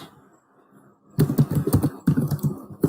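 A search term is typed on a computer keyboard, starting after a quiet second as a quick, close burst of clicking keystrokes with a brief pause midway.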